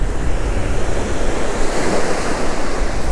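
Ocean surf breaks steadily on a beach during shallow-water whiting fishing under rain clouds, a continuous loud wash of rolling waves with wind noise buffeting the microphone throughout.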